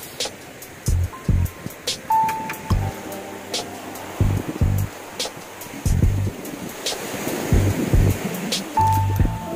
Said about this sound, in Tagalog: makapansin nyo ang dagat. Medyo malakas.